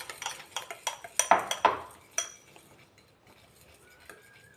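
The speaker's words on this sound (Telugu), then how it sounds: "ఇది నూనె వేడెక్కేదాకా ఇలాగే బీట్ చేస్తూ ఉండండి." Paneer bajji batter being beaten in a bowl with a utensil, a quick run of clinking, scraping strokes against the bowl that taper off into quieter taps near the end.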